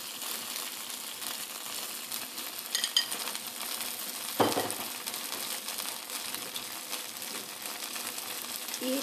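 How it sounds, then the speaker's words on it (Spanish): Garlic, chili and onion sauté in a pan for a fried fish with coconut dish: a faint, steady sizzle runs throughout, with a brief clatter of stirring near the middle. "Vamos a dejar sofreír un poquitito solamente, como pueden ver por aquí, que se doren nuestros vegetales."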